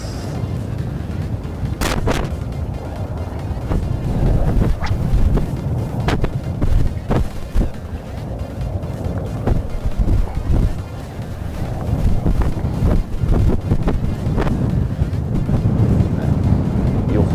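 Strong gusting wind buffets the microphone on the shore during sea bass fishing, a loud rumbling roar with sharp bumps and thuds throughout, no voices.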